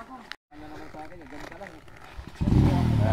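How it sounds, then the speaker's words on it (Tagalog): A motorcycle engine roars up loudly near the end, following a stretch of people talking with clatter and a motor running beneath them on a mountain trail. "Yung malakas motor muna."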